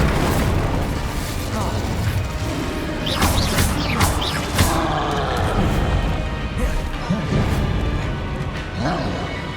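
Incendio fire spell cast in Hogwarts Legacy during combat, crackling bursts of flame and impacts over a busy rumbling battle din, with several sharp whooshing hits and a voice calling out spells.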